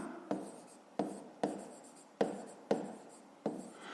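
Pen or pencil writing out a fifth-grade math problem solution on paper, six quick scratchy strokes in a steady rhythm, each starting sharply and trailing off, close and clear with no talking.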